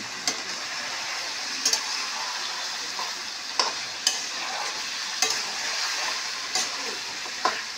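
Chicken fries in a pan while a spatula stirs it, steady sizzling hiss punctuated by sharp scraping knocks roughly every second or so, close and moderately loud with no talk.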